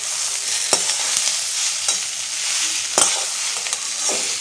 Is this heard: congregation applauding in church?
no